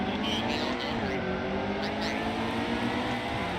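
A field of race cars roars together at the start of a NASCAR Heat 2 Xfinity playoff race at Kansas, a dense steady engine drone with rising tones as the pack accelerates, with a voice talking over it.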